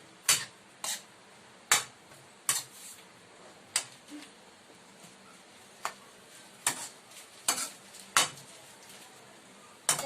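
A utensil stirs adobong sitaw with tofu and oyster sauce in a pan, making sharp, quiet clanks against the metal, roughly a dozen irregular knocks over ten seconds with no talking.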